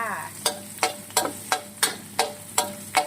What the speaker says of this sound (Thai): ใส่กระเทียมจีนลงไปนะจ๊ะ เจียวให้หอมจ้า